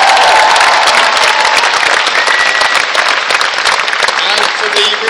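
Loud, dense clapping from a large audience at the Science is Vital event fills the whole stretch, with faint shouts mixed into the steady ovation.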